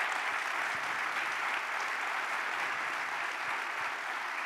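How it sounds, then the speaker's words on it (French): Audience applause for a Paralympic athlete during an interview event, a steady, fairly soft wash of clapping from a crowd throughout. "je vous demande d'applaudir Marie Baucher"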